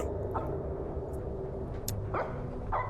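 A dog in a horror video game gives a few short, separate barks at mid distance, spaced irregularly over a steady low background hum and ambient drone.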